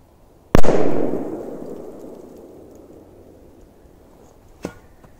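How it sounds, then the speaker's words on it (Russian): A single sharp blast from a large firecracker rings out and its echo rumbles away slowly, followed seconds later by a second, fainter crack in the distance. "Так, проверим на мощность вот эти петарды."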